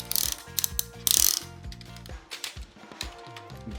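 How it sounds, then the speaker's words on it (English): Ratcheting joints on a Metal Cardbots toy figure click in quick bursts as the limbs are moved, a series of sharp close plastic-and-metal ratchet clicks with short pauses between. "Oh man, those ratchets."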